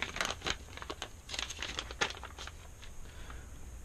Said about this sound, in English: So here we have a plastic bag of evidence.